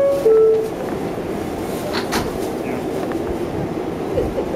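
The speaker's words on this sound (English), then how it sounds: "On the subway right now." A New York subway train heading toward Times Square rumbles steadily around the listener, with a continuous low roar, faint rattles and a brief chime-like tone near the start.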